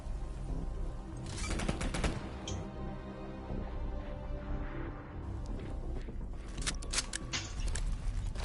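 Gunfire from a Call of Duty League esports match, with bursts of rapid automatic fire in clustered volleys separated by brief lulls, moderately loud over a low game background.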